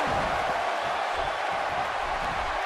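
A wrestling arena crowd roars steadily in a dense, continuous wash of cheering that holds at the same level throughout.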